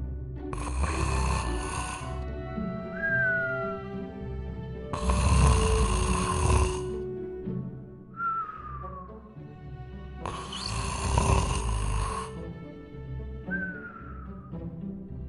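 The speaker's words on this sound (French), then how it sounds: "Il ne tarda pas à ronfler." A man snores in long rasping breaths, three loud drawn-out inhalations spaced a few seconds apart with a whistling tone between them, close and alone with no talk.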